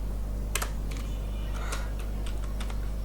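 Fingers type HTML on a computer keyboard in Windows Notepad, producing scattered bursts of close, crisp key clicks with short pauses between them over a steady low hum.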